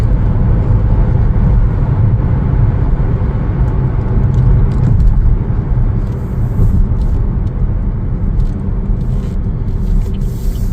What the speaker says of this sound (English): Quick acceleration. Feels really nice. Super quick.